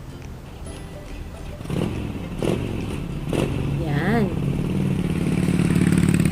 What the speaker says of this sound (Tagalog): Arog kani ang tanog ka motorsiklo.